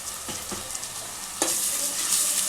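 Fresh ginger-garlic paste frying in oil for a chicken curry with cowpeas, a close, constant hiss with a few spatula knocks, then a sharp jump in sizzle as more hits the pan.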